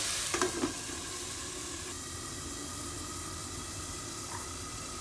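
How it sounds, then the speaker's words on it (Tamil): Tomatoes and onions sauteing in a covered pan for chutney, a steady soft sizzle throughout with a few brief utensil clinks near the start. "மூடி போட்டு நல்லா தக்காளி வெங்காயம் எல்லாம் நல்லா மசிஞ்சு வர்ற அளவுக்கு வதங்க விடுவோம்."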